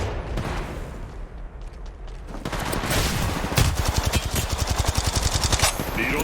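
Rapid automatic gunfire from a ranked Apex Legends Mobile match, building into a dense, loud burst of closely spaced shots in the second half with more scattered shots before it.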